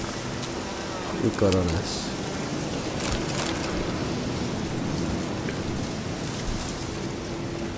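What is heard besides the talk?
thunderstorm and rain in the video game The Witcher 3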